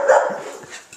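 A puppy gives a quick, close yip-like bark outdoors, followed by softer whimpering sounds within about a second.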